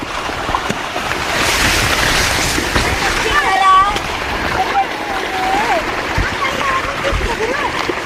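Fast water rushing through a farm irrigation canal, a steady loud splashing gush under the excited talk of people standing beside it.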